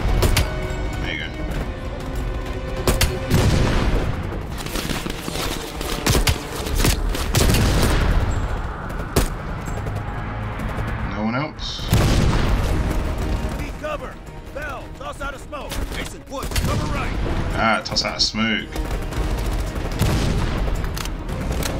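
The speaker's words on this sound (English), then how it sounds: "There's another grenade launcher." In Call of Duty: Black Ops Cold War, grenade launcher explosions and gunfire crash on and off with heavy booms, rattling shots and mechanical clatter, staying dense and loud throughout, while voices talk over the combat at times.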